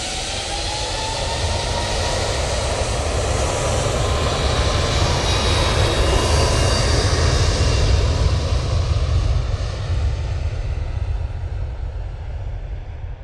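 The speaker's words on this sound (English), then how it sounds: "Transat A321 LR going back to Toronto" An Air Transat Airbus A321LR jet bound for Toronto roars steadily past at Manchester Airport, a loud, sustained broadband engine rush with a faint whine drifting over it.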